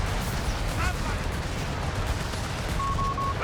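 Artillery fire rumbles through a battle in the World War II strategy game Company of Heroes 3, with loud, continuous booms and gunfire layered into a dense, unbroken roar.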